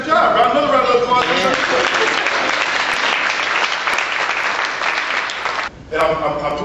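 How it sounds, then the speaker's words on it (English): A crowd at a talk breaks into loud, dense applause that fills the space, then briefly drops off before a voice returns, with speech heard at the edges. "Another round of applause."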